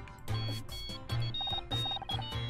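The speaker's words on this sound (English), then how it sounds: "One sec, I think that's my phone." An electronic phone ring from the video game Murder By Numbers plays in repeated short bursts, clear and prominent with steady rhythmic pulses.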